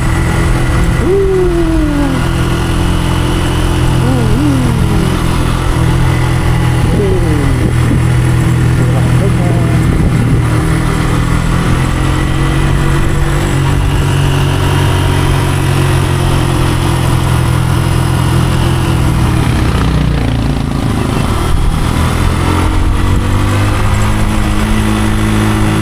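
A Motorstar Easy Ride 150 Fi motorcycle engine runs at a steady, close, loud idle-like drone throughout, with someone talking over it.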